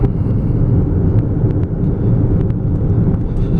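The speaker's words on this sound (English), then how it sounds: "Engine sounds real healthy." A 2013 Hyundai Sonata GLS with 172,000 miles cruises down the road, its engine a steady low hum blended with road and wind noise, smooth and quiet throughout with no voices.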